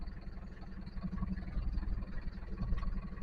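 A truck engine idles before warming up, a steady low rumble with a rattling gear lever shaking over it, continuous and close.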